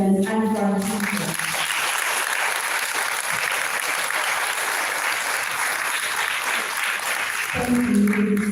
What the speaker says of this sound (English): Let us give a round of applause to our teachers and for our teachers.